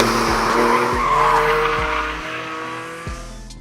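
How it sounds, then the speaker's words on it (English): Porsche 718 Spyder with a 4-litre naturally aspirated flat-six, revving near its 8000 rpm redline: a loud, high engine howl with quick shifts and pitch drops, heard close and alone. "You'll want to rev this engine to its 8000 RPM redline"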